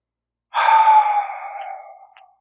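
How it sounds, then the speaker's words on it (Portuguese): One long, slow breath drawn and released close to the microphone, airy and steady, fading out gradually in otherwise silent surroundings. "eu convido você a respirar profundamente"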